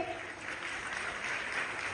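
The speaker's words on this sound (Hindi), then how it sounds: "कमॉन, जोरदार तालियों के साथ।" Sustained audience clapping fills a public gathering as a DCC president is welcomed, an even, hall-filling applause without any talk on top.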